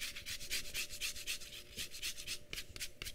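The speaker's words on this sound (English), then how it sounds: "to the bowl with the egg yolks, you're going to add in the zest of 2 lemons" Lemon zest grated against a metal zester over a bowl of egg yolks, quick rhythmic rasping strokes, close and steady for a few seconds with no talk.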